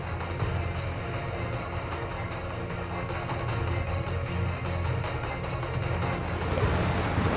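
Stormy, rough sea off the Gujarat coast sends waves churning and crashing in a continuous loud roar, mixed with gusting wind noise, with no voices throughout.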